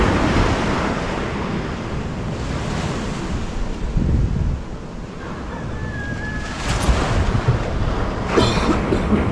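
Sea waves rolling onto a shore before dawn, a steady broadband wash with surges and strong wind buffeting the microphone throughout; no talking.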